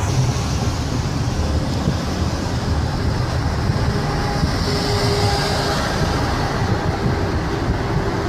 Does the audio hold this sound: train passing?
yes